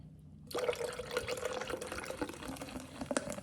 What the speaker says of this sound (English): I'm just pouring in my pineapple juice and I'm eyeballing it